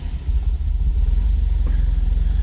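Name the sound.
1974 Volvo 1800 ES engine starting, Bosch fuel injection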